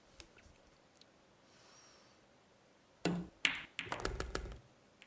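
Sharp cue strikes and ball clacks from a Virtual Pool 4 blackball game, a few quick knocks followed by a rattling burst of collisions, heard alone after a quiet lead-in.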